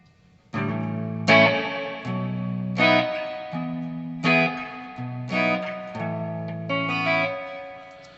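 Electric guitar chords are strummed one after another through a Boss reverb pedal, each ringing out with a wash of reverb that lingers between strikes.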